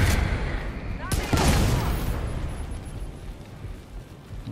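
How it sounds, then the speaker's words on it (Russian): Explosions and gunfire in the video game The Division 2, a loud booming blast with a burst of shots near the start, then rumbling fading debris, with a player talking over it. "Взрывы."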